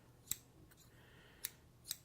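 Three sharp, close snips from Ice Temper scissors, slightly higher and brighter in tone, spaced irregularly in near silence.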